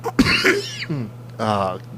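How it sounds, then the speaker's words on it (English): A single harsh cough bursts out, followed by a short throat clear and a few spoken words nearby. "stupid cough"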